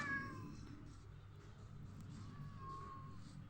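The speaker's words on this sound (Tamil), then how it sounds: "நல்ல பூனை தப்பிச்சு போயிடுச்சு" A cat in the video game Minecraft gives a faint, drawn-out meow or two over a low, steady background hum.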